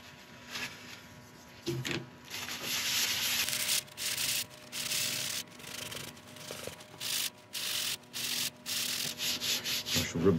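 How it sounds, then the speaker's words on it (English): True Grit abrasive paste rubbed into turned monkey puzzle wood, with repeated close scratchy rubbing strokes in uneven bursts and a faint steady hum behind them. "Now let's get on with the True Grit abrasive paste."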